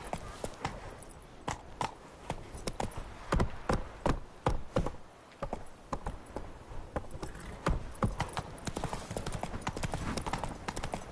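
Roach, a horse in The Witcher III: Wild Hunt, gallops with a steady, quick clip-clop of hooves that stays loud and close throughout, and someone speaks now and then over the hoofbeats.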